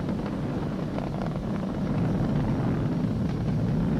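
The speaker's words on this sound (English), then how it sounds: "We're throttling back up to full power" Falcon 9 rocket engines during ascent on the Demo-2 launch, a steady, distant, broad roar that holds evenly throughout with no voices.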